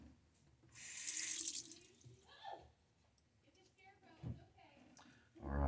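Tap water runs into a sink to wet a shaving brush, a steady splashing flow that swells and fades with nearby handling noises and brief talking over it.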